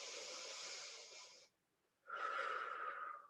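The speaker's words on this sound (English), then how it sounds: "And taking some deep breaths." Two deep, close, breathy exhalations with a brief pause between them, taken during a thoracic stretching exercise.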